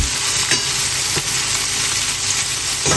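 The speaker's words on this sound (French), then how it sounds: "Et on va laisser cuire un peu moyen fort jusqu'à ce que ce soit prêt." A beef burger patty fries in a pan, giving a loud, steady sizzle and crackle with a few faint clicks of a utensil and no talking.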